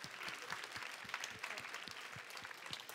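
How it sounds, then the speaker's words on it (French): A high-school audience at a Paris book festival literary prize ceremony applauds, a steady, moderately distant patter of many hands lasting the whole stretch with rhythmic emphasized claps. "Vous pouvez vous applaudir, vous aussi."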